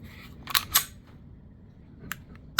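A Sig Sauer pistol trigger is pulled, producing a handful of crisp metallic clicks up close: two in quick succession, then a lighter one and a final sharp click, against quiet room noise.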